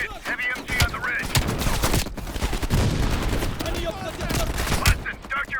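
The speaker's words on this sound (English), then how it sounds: "Watch it, heavy MG on the ridge." Heavy machine gun fire from a ridge in Call of Duty Cold War, with rapid bursts of gunshots and booming impacts, close and loud amid battle noise and shouted voices.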